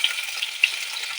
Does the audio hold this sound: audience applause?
no